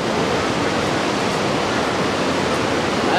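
Hot spring water at Manikaran pours and splashes steadily, a dense continuous rushing roar that stays loud and even throughout, with no voices.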